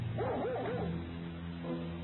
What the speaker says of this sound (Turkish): Köpeklerin çanağına gidiyor.